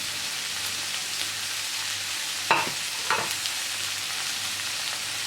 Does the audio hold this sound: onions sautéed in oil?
yes